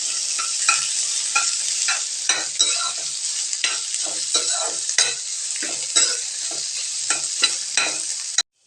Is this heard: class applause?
no